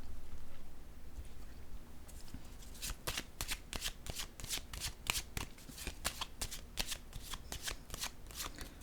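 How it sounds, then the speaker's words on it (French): Playing cards being handled and set down: a steady run of crisp, close flicking snaps in quick succession after a quiet start, with a faint voice in the background. "Je vais déposer une autre carte ici."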